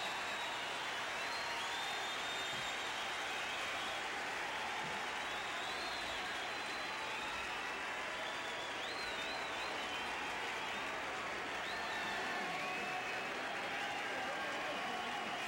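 A baseball stadium crowd at an Angels game rises and roars as Paul O'Neill steps to the plate, a dense, sustained wash of cheering and applause that stays loud throughout, with a commentator's voice faintly underneath.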